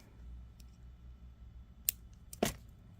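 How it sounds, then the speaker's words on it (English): Wire cutters snip off the excess beading wire on a Moroccan-style beaded necklace, two crisp close metallic clicks in an otherwise quiet space, the second louder. "So now we'll cut our extra wire off here."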